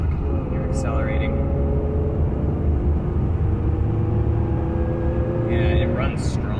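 Toyota T100 pickup with a 3.4-litre engine accelerating, a steady low engine rumble and drone continuing throughout, with people talking over it inside the cab.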